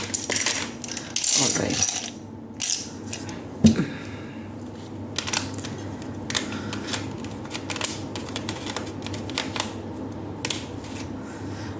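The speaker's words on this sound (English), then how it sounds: "Let me give this a good shuffle so that we don't have the same letters coming." Tarot cards are shuffled and handled in a series of soft crisp riffles and taps, with a brief spoken aside near the end.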